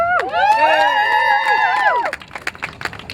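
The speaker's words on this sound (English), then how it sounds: "Let's give him a great round of applause." Crowd at a rally cheering and shouting loudly for about two seconds, voices whooping in high sustained tones, then thinning into scattered claps and calls.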